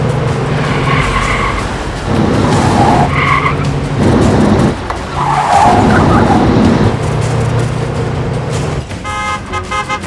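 A car racing at speed during a chase roars loudly, with tyre squeals and skids sweeping through the engine noise and a brief horn-like tone near the end.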